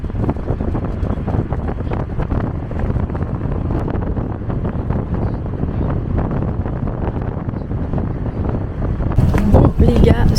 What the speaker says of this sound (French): sous ce vent, ma foi assez chaud